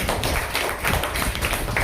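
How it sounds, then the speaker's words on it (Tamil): Audience applause at a student debate event at a school NSS special camp, a dense steady patter of many hands clapping throughout, fairly close and continuous with no talk. "கைத்தட்டல்"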